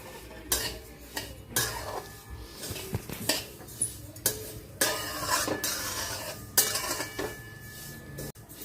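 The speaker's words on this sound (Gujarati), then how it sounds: "પછી મેં એની અંદર એક વાટકી તલ એડ કરીશ। એ થોડાક શેકી નાખીશું।" Sesame seeds being roasted in a pan for til chikki, with repeated sharp clanks and scrapes of a utensil against the pan at an irregular rhythm, close and fairly loud, with a light sizzle underneath.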